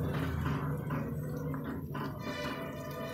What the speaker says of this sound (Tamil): நல்லா பொங்கி பொங்கி வரும்.